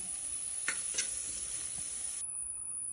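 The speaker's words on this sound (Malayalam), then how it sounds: "ഇതാ കറാമ്പൂ ഏലക്കായും പട്ടയൊക്കെ ഇട്ടെടുത്ത് വെളുത്തുള്ളി ഇട്ടെടുത്ത് കുറച്ച് ഇഞ്ചി ഇട്ടെടുത്ത് വലിയ ഉള്ളി അരിഞ്ഞത് പച്ചമുളക് ഇതൊക്കെ ഇട്ടെടുത്ത് ഒന്ന് വഴറ്റി" Cloves, cardamom, cinnamon, garlic, ginger, chopped onion and green chili sauté in hot oil with a steady soft sizzle, broken by a couple of brief stirring scrapes, with no voices.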